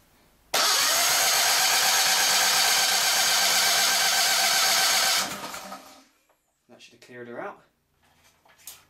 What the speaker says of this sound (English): With the ignition off, I'll crank it over with the throttle open.